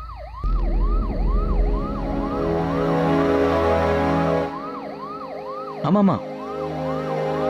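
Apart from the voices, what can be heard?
ambulance siren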